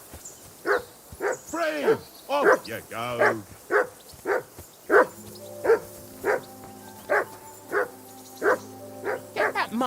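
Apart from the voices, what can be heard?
dog barking in video game Kingdom Come Deliverance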